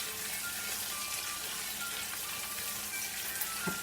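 Tomatoes with onions and garlic saute in a pan, giving a soft, continuous crackling sizzle at low volume, steady throughout with a couple of faint clinks near the end.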